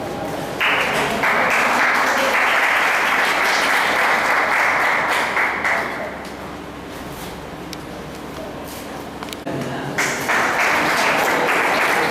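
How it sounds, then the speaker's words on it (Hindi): Sustained audience clapping at a school science exhibition and magic show, loud and dense at first, dipping to a softer patter midway, then surging again near the end. "इनके लिए भी जोरदार एक बार ताली चिन्ह देके सम्मानित करें।"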